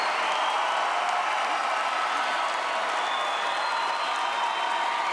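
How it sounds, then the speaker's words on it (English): Large commencement crowd at Mount San Antonio College gives a final round of applause for the 2018 graduating class, a steady wash of distant clapping throughout. "Let's have one final round of applause for the 2018 graduating class of Mount San Antonio College."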